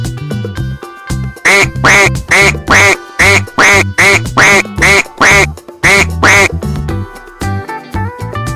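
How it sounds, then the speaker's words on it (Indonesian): A farm duck quacks loudly in a quick, steady series of about a dozen calls, with a few softer calls and pauses near the start and end. "Bebek."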